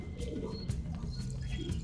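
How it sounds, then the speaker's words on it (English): Yellow and black English barb pigeons on a fancy pigeon farm give low, soft cooing calls that repeat in a murmuring rhythm close by, amid faint background chirps. "a pair of yellow and black English barb pigeons"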